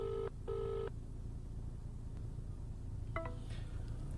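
Telephone keypad tones from a call to a company: two long dial beeps early on, then after a pause a rapid burst of short keypad tones over a steady background hum.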